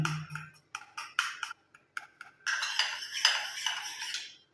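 A spoon stirs two oils together in a bowl, one of them coconut oil, for a homemade hair treatment: sparse, close metallic clinks and taps at first, then a denser run of scraping and clinking against the bowl.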